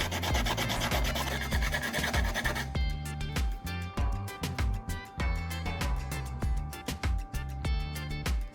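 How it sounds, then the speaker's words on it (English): Fine grit sandpaper rubs over the cut edges of a plastic shampoo bottle, making repeated quiet scratchy strokes in a steady back-and-forth rhythm, close and alone with no talk. "Using fine grit sandpaper or a small file, I'll remove any rough spots, burrs, or sharp edges"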